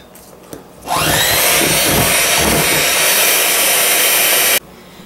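Electric mixer beating pudding mix, switching on after a short quiet moment and running loud and steady at a constant whirring pitch for nearly four seconds before cutting off abruptly.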